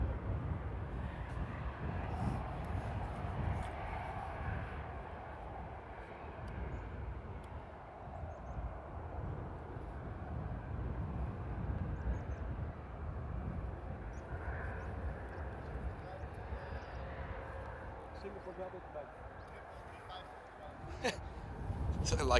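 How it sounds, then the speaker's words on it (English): A Singapore Airlines Boeing 777 rumbles past at Paris Charles de Gaulle in sunny weather, a steady low engine roar lasting throughout with some wind buffeting, while people talk over it. "It's gonna be a nice rumbling 777."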